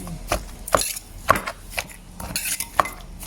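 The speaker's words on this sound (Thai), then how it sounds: "ระหว่างนี้ก็ตำเบาๆก่อนเนาะ" Wooden pestle lightly pounding boiled eggplant in a full mortar, for a rustic Isan eggplant and mackerel dip; soft, irregular thuds and clacks repeat every second or so, close by, with no talk.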